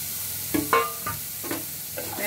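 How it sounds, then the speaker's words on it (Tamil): Sliced coconut fries in a pan for a broad bean dal kuruma, giving a steady close sizzle broken by several scraping stirs. "அதே நல்லா கொஞ்சம் கலர் சேஞ்ச் ஆகிற அளவு ஃப்ரை பண்ணிக்கோங்க"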